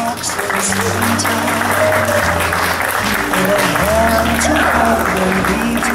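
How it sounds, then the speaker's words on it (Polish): An audience at the Magic Malbork 2012 awards ceremony applauds a sponsor with continuous, full clapping while low sustained music tones play underneath. "Myślę, że należą się brawa."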